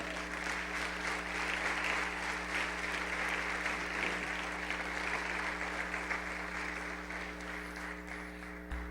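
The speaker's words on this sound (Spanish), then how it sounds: "Dale una ofrenda de palmas al Señor." A church congregation gives an offering of applause to the Lord, sustained clapping from many hands in a large hall, fairly soft and even throughout, with a steady electrical hum underneath.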